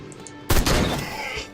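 A single sharp gunshot in the video game Sang Froid: Tales of Werewolves, a loud close crack with a short rumbling decay that fades over about a second.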